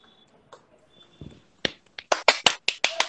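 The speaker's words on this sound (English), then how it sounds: "Those who are happy, can I hear a clap for all of you?" Scattered hand claps from a class at a morning gathering, starting as a few isolated claps and building into a short burst of sharp, fairly close claps over about a second.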